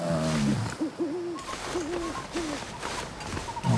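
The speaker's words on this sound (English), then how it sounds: "I hear an owl in the distance." Owl hooting in the distance in the video game The Long Dark, several low wavering hoots in a row over a windy backdrop, heard without speech.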